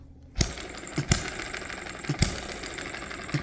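A hit-and-miss engine running indoors gives sharp, irregular firing clicks and knocks, about one to two per second, over a low steady mechanical hum.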